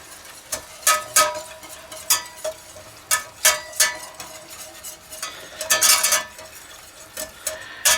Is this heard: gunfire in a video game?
no